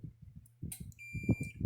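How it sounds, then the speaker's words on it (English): A multimeter in continuity mode beeps with a steady electronic tone while testing the wire of a Kencove EKD3 electric fence charger under repair, the clear beep starting partway in and running over low handling noise. "So that means the inside should beep."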